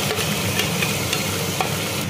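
Ginger, garlic, tomato and green chili tipped into onions frying until brown, giving a steady close sizzle with scraping stir sounds over a couple of seconds, no talk.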